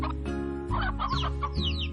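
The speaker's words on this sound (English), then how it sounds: "So we have another chickadoo." A chickadoo in the Slime Rancher video game clucks in a quick series of short, close chicken-like clucks and squawks, repeating in an uneven rhythm with no talk over it.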